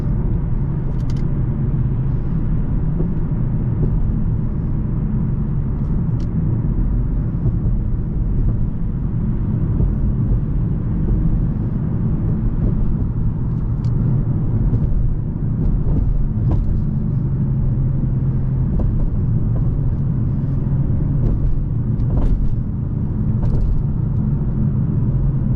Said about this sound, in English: So let's go ahead and just show you the downshift techniques.